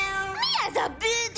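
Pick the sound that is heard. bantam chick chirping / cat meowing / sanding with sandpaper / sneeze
cat meowing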